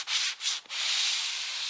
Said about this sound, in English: by sanding with my 220 to try to work down the existing finish